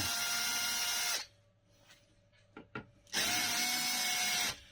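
A power screwdriver with a flat bit backs a screw out of a chair during reupholstery and repair, giving two steady whirring bursts with a quiet gap between them that holds a few faint clicks.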